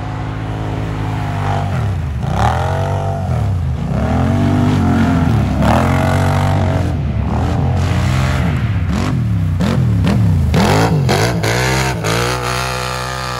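A Can-Am Maverick X3 side-by-side with an EVO Powersports exhaust revs repeatedly, close and loud, with the engine rising and falling in a string of sharp throttle blips.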